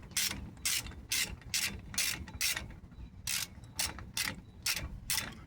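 A ratchet wrench tightens the brake caliper bolts on a 2014 Dodge Ram 1500 pickup, its pawl clicking in about a dozen quick, close bursts with short pauses between strokes.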